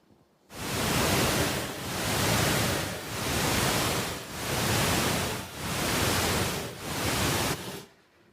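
Deep sleep stimulating pink noise plays as five broad, loud bursts that swell and fade in a slow, regular rhythm, sounding like rushing surf, with no voices.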